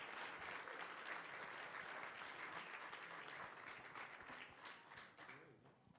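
A crowd at an art show applauds a People's Choice award winner for a sculpture, sustained dense clapping heard at a distance and quietly, tapering slightly toward the end.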